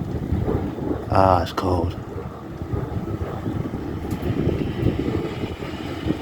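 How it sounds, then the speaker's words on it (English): Gusty wind rising as a strong thunderstorm approaches outdoors, a steady broadband rush and buffeting across the microphone throughout, with a person speaking briefly near the start. "Oh, the wind's picking up too."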